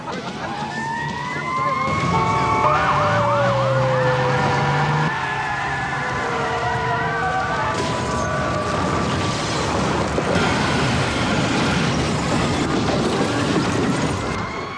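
An emergency vehicle siren wails in rising and falling tones across a busy road, sounding over steady traffic and engine noise throughout the recording, moderately loud and continuous.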